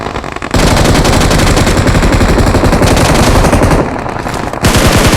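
Sustained, loud automatic gunfire in PUBG Mobile rattles in a rapid unbroken stream, breaks briefly near the end, then resumes with close, punchy shots.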